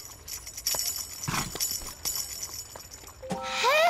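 Hooves of Galahad, a cartoon horse, clip-clopping in a quick uneven series of close knocks, followed near the end by a bright rising musical flourish.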